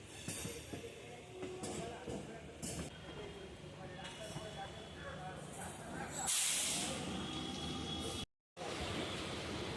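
The Bhagirathi Express, Sealdah to Lalgola, rushes past with a steady roaring rumble and hiss, swelling into a brief louder whoosh before cutting off abruptly.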